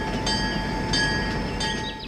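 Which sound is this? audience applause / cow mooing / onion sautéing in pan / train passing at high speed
train passing at high speed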